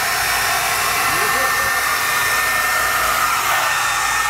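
A hair dryer blows steadily over a freshly poured Stone Coat epoxy countertop aboard a catamaran. Its loud, continuous airy rush is close and uninterrupted throughout.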